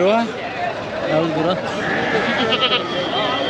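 Foreign-breed sheep bleat at a Hindiganala livestock market before Bakrid, with a loud, wavering call near the start and more bleats under ongoing bargaining voices.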